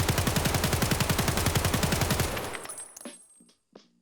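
AK-74M rifle fired from the hip without aiming in a shooting game, a rapid full-auto burst of about twenty evenly spaced loud shots that stops abruptly, followed by a couple of faint metallic clicks.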